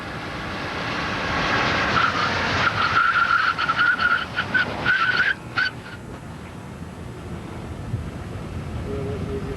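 A police car braking hard with ABS engaged, tires skidding with a loud rapid pulsing chatter for a few seconds before the skid fades into steady engine and road noise.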